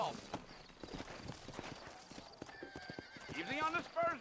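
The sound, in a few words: horses trotting, from video game Red Dead Redemption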